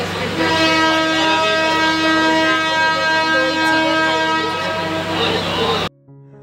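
A train horn blasts loud and steady for several seconds, then cuts off abruptly, leaving a quiet hum.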